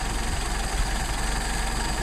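Steady engine idle while the carburetor idle mixture screw is adjusted, a loud, even low rumble with slight rhythmic unevenness and no talking.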